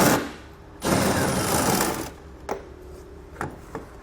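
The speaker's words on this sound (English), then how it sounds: "you'll find 2 bolts that we're going to need to remove using an 8mm socket" An 8mm socket tool removing fascia bolts on a 2016 vehicle, two short loud bursts of rapid ratcheting or whirring followed by a few sharp metallic clicks, close up.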